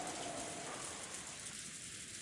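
Steady wind and rain as a broad, continuous hiss in a quiet scene of the Umineko visual novel, faint and even throughout with no voices.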